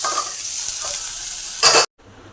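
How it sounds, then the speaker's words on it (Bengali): Bitter gourd and potato pieces fry in a pan with a loud, close, continuous sizzle, briefly louder with a stir near the end before the sound cuts off. "আর এখন উচ্ছে আলু ভাজাটা বসিয়েছি"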